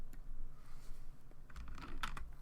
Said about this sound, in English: Typing this into the calculator